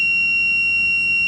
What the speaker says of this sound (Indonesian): oven akan mengeluarkan bunyi